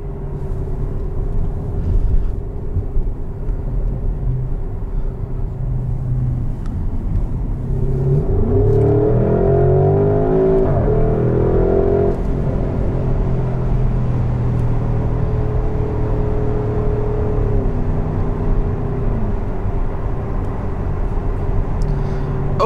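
Engine of a 2021 Porsche Cayenne GTS Coupe, a full-size SUV, droning steadily inside the cabin, then surging into a loud rising rev around the middle before settling back to a sustained cruise.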